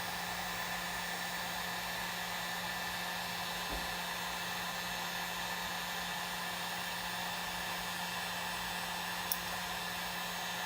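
A heat gun on its low setting blows hot air onto cycling shoes, a steady, even whooshing hiss with a constant motor hum, running unbroken and fairly quiet throughout.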